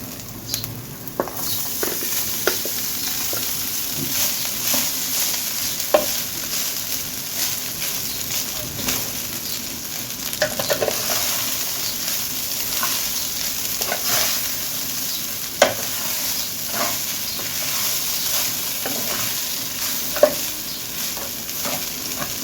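Rice is stirred in a hot pan for coriander rice, with steady scraping and light sizzling that carry on evenly and fairly close, and occasional louder clacks of the utensil against the pan.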